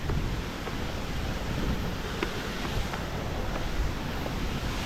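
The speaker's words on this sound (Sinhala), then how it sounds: "මේ තමයි සුන්දර පීස්සැල්ල." Peessa waterfall seen from a viewpoint, a broad steady roar of rushing water with wind buffeting the microphone, continuous and loud with no talk.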